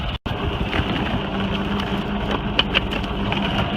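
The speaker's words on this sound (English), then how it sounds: "let's see if I can get this spooled on or start to spool it" A winch spools cable onto its drum, giving a steady mechanical drone with a low hum and a brief dropout near the start.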